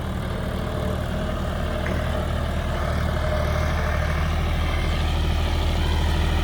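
A John Deere tractor engine runs at a steady idle, giving a continuous low, rumbling drone that stays even and close throughout with no talking.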